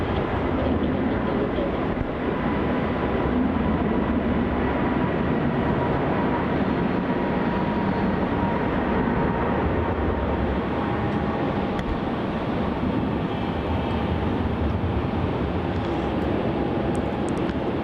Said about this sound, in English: like it for the Jetstar A321neo departing here to Denpasar as JQ31